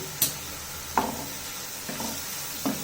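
Onions and vegetables frying in a pan for street-style pav bhaji, a steady sizzle broken by several distinct scraping stirs at irregular intervals.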